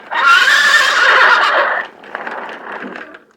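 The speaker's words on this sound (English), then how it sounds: "This is a horse." A sound toy plays a recorded horse neigh, a loud, close whinny lasting nearly two seconds, followed by a softer trailing snort and rustle with no talking.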